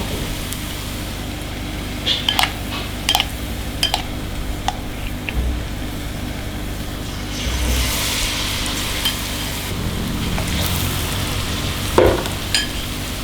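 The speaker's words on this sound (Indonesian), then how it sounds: "Kita goreng." Tofu frying in hot oil, giving a steady sizzle throughout with occasional sharp clinks and scrapes of a utensil and a louder hiss as pieces shift in the pan.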